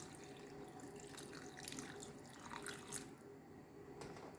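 Water poured from a tap or jug into a pot of boiling meat for egusi soup, a soft steady trickle and splashing with faint drips, close and continuous with no talking.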